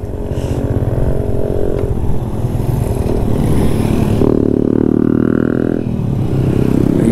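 A motorcycle ridden on a mountain road at Pir Chinasi near Muzaffarabad in Azad Kashmir drones steadily and loudly, its engine tone rising and shifting midway with no talk.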